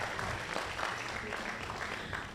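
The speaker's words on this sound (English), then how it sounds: "Let's give all these young agripreneurs one more round of applause." Audience applause at an agripreneur prize competition finale for young agripreneurs, a steady continuous round of clapping filling the room at moderate volume throughout.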